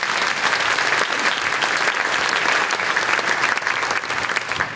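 A breakfast audience at a children's advocacy event in Fresno gives a sustained, dense round of applause, steady and loud throughout with a crowd murmur beneath.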